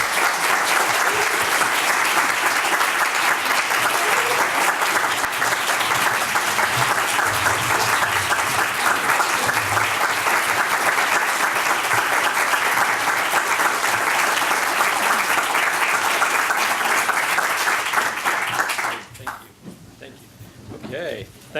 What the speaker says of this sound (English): please, everybody give all of our speakers a round of applause